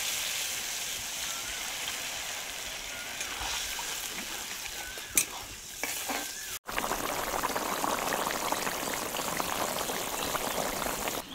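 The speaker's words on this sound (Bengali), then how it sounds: "এবার আমি দিয়ে দেবো পরিমাণ মতো জল।" Water is poured into a pan of spiced fish curry base for boal fish tel jhal, giving a steady sizzling, splashing wash with a brief clatter midway before the bubbling hiss continues.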